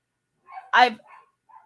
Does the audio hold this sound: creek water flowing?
no